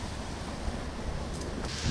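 A pressure washer sprays plain water on a wood deck, a steady rushing hiss of spray that runs without a break for a couple of seconds, with no voices.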